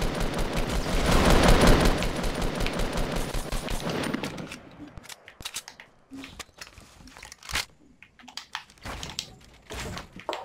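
Dense rapid gunfire from several players in Fortnite Battle Royale, a loud continuous burst of overlapping shots for about four seconds, then scattered sharper shots and clicks trailing off.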